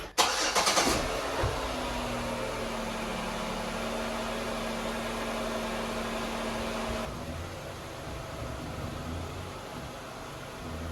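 Chevrolet Malibu MAXX, lowered on SAAB coilovers, idling and rolling backward down a set of ramps, a steady close engine hum with a brief clunk at the start and a shift in tone partway through.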